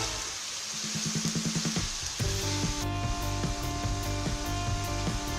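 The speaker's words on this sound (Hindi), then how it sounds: "इसको मैं उस वक्त तक फ्राई करूँगी जब तक इसका कलर चेंज नहीं हो जाता और इसको हिलाते जाना है" Mutton for achari biryani frying and being stirred in oil, a continuous close crackling sizzle with fine popping, overlaid by faint rhythmic tonal beeps.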